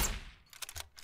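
Gunshots fired at a bear in the survival game SurrounDead, a burst of several quick sharp reports after an initial loud crack, moderately loud with no talking.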